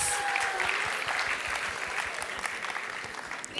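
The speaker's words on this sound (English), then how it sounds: "let's give her a warm round of applause" An audience claps in a steady, fairly soft round of applause that fills the whole stretch, welcoming a young woman called up on stage at a musical drama performance.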